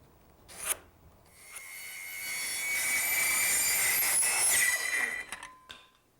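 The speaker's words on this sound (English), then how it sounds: "And I'll square a line, cut it off, trim it just a little bit long." A handsaw cuts off and trims a wooden piece for a hearthside settle. It makes a steady rasping stroke that builds over several seconds and then ends in a few short scrapes, heard close with no talking.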